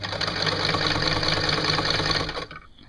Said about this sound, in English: Amazing things, sewing machines, particularly if you hate hand sewing as much as me.